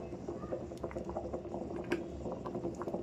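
Water with green chillies boils in a pot, a soft continuous bubbling and popping patter heard close but faint, with no voices.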